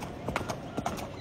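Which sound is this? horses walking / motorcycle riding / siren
horses walking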